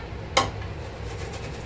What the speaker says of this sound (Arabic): بنجيب الصينيه ندهنها